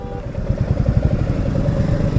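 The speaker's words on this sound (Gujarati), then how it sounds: "આ પ્રોપર ઓફરોડિંગ બાઇક છે બધી એમની." An off-road motorcycle engine chugs nearby in heavy traffic with steady, rhythmic putting pulses, loud and close, with rattling clatter mixed in.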